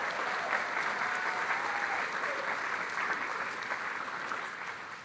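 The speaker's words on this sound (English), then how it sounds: "Let's give them a round of applause as well." An audience at an event with Arizona tribal members applauds in a dense, sustained wash of clapping that fades slightly toward the end.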